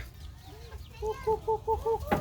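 Backyard pet chickens cluck in a short series of about five close, evenly spaced calls, rising after a quieter start and ending on a louder squawk. No voices are heard over the birds.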